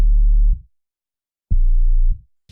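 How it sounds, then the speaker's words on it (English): A pure sub bass sine wave sounds two sustained low root notes of a chord progression, each about half a second long and separated by a second of silence, clean and loud with no other sound. "First, we have the sub bass, which is nothing but a single simple sine wave, which plays the root notes of the chords at the lowest octave possible."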